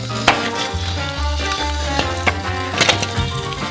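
Churro dough sizzles in plenty of hot oil in a wide frying pan, a steady close crackle and hiss with a few sharper pops along the way and no voices.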